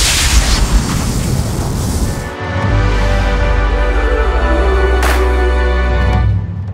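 An energy blast sound effect made for Final Cut Pro: a loud whooshing burst that drops into a deep, humming rumble, with a sharp flare midway before fading out.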